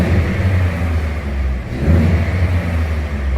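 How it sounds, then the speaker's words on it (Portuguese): Ford Ka engine revving while parked, a steady loud low rumble that swells briefly near the end of the burst, heard on its own without talk. "Então eu vou dar uma aceleradinha para vocês darem uma olhada."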